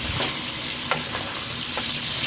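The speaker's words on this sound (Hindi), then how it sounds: "अगेन अच्छी तरह भूनें" Goat meat, okra and masala spices sizzle steadily as they fry in a pan, with a few faint stirring scrapes over the dense, even hiss, and no voices.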